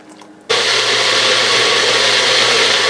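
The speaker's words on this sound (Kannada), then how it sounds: "ಈಗ ಮಿಕ್ಸರ್ ಪಾತ್ರೆಗೆ ನಾವು ಇಟ್ಕೊಂಡಿರೋ ಪೈನಾಪಲ್ಲು, ತೆಂಗಿನಕಾಯಿ ಮತ್ತು ಸಾರಿನ ಪುಡಿ ಅಷ್ಟನ್ನು ಹಾಕಿ ಇದಕ್ಕೆ ನೀವು ಸಣ್ಣದಾಗಿ ರುಬ್ಕೋಬೇಕು" A mixer grinder loudly blending pineapple, coconut and saaru powder with water, starting abruptly after a brief quiet moment and then running as a steady, dense whirring roar.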